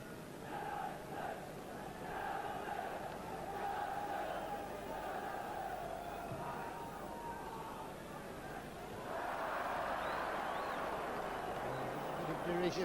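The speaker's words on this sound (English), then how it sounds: "Derision by the crowd there as Jim Leighton kicks the ball straight into touch." A 1988 football crowd at Derby County versus Manchester United jeers and whistles in derision, a broad roar of voices that swells louder near the end, with commentary running over it.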